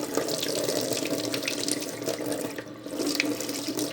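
Water runs steadily from a tap in a continuous splashing stream, close and moderately loud, with no voices.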